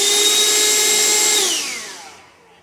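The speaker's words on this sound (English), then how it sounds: "I'm going to take the vacuum and vacuum it just a little bit here from where I didn't apply glue." A vacuum cleaner picking up loose model railway ballast around Kato Unitrack holds a loud, even motor whine, then winds down with falling pitch and fades out over the last second.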